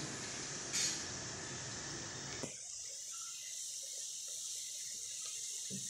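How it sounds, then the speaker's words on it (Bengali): Rasmalai sweets boil in a covered pot, giving a dense rushing hiss that suddenly drops to a quieter, bubbling simmer with faint ticks, no voices. "হ্যাঁ, মিষ্টিগুলো সুন্দরভাবে ফুটতেছে"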